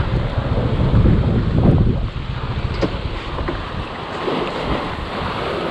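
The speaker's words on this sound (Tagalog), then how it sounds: "Malakas ang alon. Buti merong seawall, oh." Strong waves on Taal Lake washing against a seawall at a baywalk in Batangas, a continuous rough wash and rumble with heavy wind buffeting the microphone, louder at first then settling.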